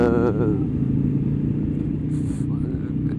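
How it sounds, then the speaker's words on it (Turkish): Road traffic passes during a motorcycle ride, a steady low engine and wind rumble with vehicles going by, under someone talking throughout. "E, e bu arada bayağı var ha trafik"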